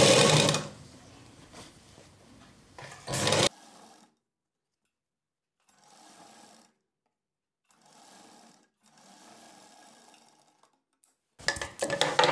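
A sewing machine stitches a blouse in loud bursts at the start and end, with quieter, softer runs of stitching between stretches of near silence.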